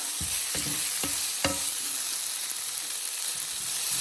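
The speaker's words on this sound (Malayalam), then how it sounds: "രണ്ട് ടേബിൾ സ്പൂൺ കൂടി ഒന്ന് കൂട്ടിയിട്ട് ഇങ്ങോട്ട് ഇളക്കി കൊടുക്കാം" Coriander powder is stirred into mussels frying in a pan for a pepper roast, giving a loud, steady sizzle with a few sharp spoon scrapes early on and no speech.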